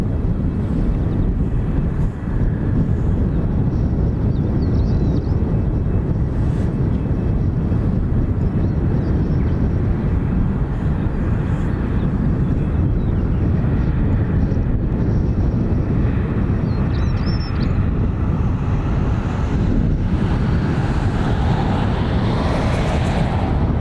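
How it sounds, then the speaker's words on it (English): An American Airlines jet departs Dublin Airport for Philadelphia, a steady, loud broadband engine roar mixed with heavy wind buffeting on the microphone throughout. "We'll let this AA to Philadelphia depart"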